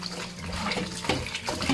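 Pork intestines are washed in water with vinegar and salt, giving a steady, close wet splashing and trickling that runs continuously without a break.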